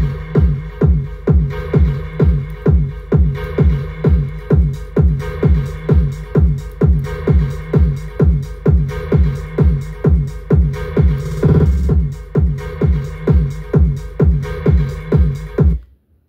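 A PO-33 sampler plays a steady, rhythmic pattern of short repeated hits with a delay effect, each echoing away before the next, loud and clear with no voices before stopping abruptly at the end.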